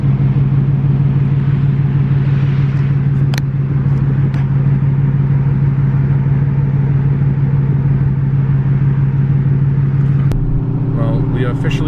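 A 700 HP 2018 Ford Mustang GT cruises steadily with a low, constant engine drone and road rumble that shifts in tone near the end, loud and continuous under occasional voice.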